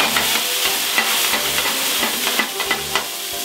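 Burger meat sizzles in a frying pan with cognac, a close, steady crackling fry interrupted by a few soft stirring and turning scrapes, with no voices.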